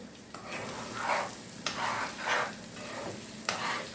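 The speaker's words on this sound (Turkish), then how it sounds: "Şimdi bunu bir güzel kavuracağım arkadaşlar." Food sizzling in hot oil in a pot, with rhythmic swishing stir strokes and a few sharp clinks of a utensil against the pot.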